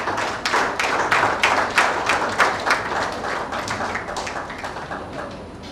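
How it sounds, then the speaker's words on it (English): A conference audience breaks into applause for a keynote speaker, with many hands clapping in dense, irregular bursts that stay strong, then gradually thin and fade toward the end. "Big round of applause, please."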